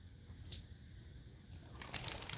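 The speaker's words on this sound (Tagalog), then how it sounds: "Lumipad na. Nagliliparan sila. Mukhang sila yung mga ibon." Birds take off together from a garden with aloe vera and bitter melon plants, giving faint, soft bursts of wing flapping against a quiet outdoor background.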